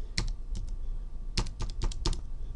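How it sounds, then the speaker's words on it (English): Fingers tap out a short burst of keystrokes on a computer keyboard, with about ten crisp, close clicks in two uneven clusters separated by a brief pause. "you can see that I typed the first few letters of the keyboard, QWERTY"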